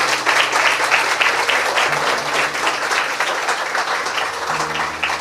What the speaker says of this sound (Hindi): आइए यीशु के लिए जोरदार ताली बजाएंगे।